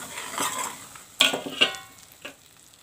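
Ground spices are stirred and roasted in a hot pan for mango launji. Soft sizzling is broken by a few sharp clinks of a spoon against the pan, close up, with no voices.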